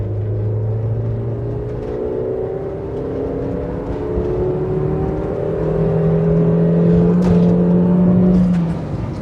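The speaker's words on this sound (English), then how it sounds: "Let's give it the beans up this hill. Yeah, that is my foot down." A van engine accelerates hard up a hill, its loud, close drone climbing steadily in pitch and building in strength toward the end, with no talk.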